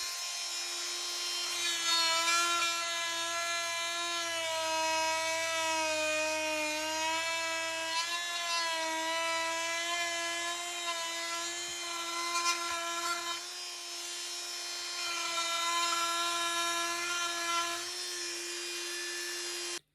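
A small rotary power tool fitted with an interchangeable bit cuts into wood to form a rebate, giving a continuous high-pitched whine that wavers slightly under load. It runs steadily and up close for the whole stretch, with no talking.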